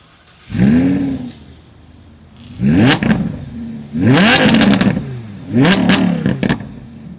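An Audi R8 with the 5.2 V10 revs up hard in four separate pulls, each rising sharply through the gears with crackling upshifts, loud and close with brief lulls between.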